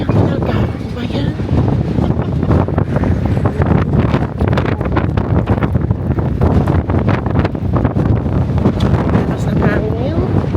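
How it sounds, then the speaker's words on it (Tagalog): Strong wind outdoors in Croatia buffets the microphone in a constant, loud rumbling roar, with faint rustling mixed in and no clear speech. "Lakas ng hangin."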